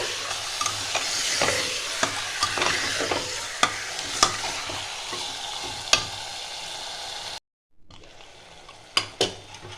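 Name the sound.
mutton frying on high flame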